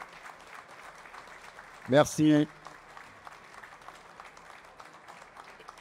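Audience applause at a dental forum award ceremony honoring top graduates, a steady, moderate-volume clapping that runs throughout, with a brief spoken word from a person near the middle.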